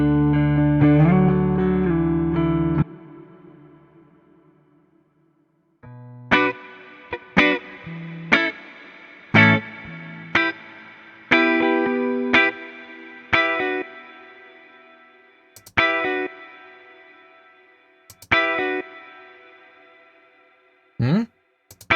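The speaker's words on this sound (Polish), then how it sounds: "Ja bardzo lubię pogłosy plate, a one z modulacją to są w ogóle" Guitar played through a plate reverb with modulation: a sustained opening chord rings out, then a series of separate plucked notes and chords, each trailing a rich, shimmering decay, close and fairly loud with no talk.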